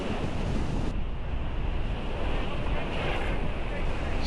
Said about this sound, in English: Choppy, wavy, lots of wind, rain showers, but it's fun helming it, I must say.